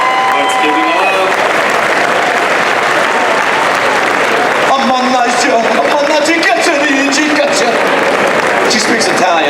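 A convention crowd breaks into loud, sustained applause and cheering for a guest's stage entrance at a Sopranos fan convention, dense clapping with whoops throughout and voices shouting over it.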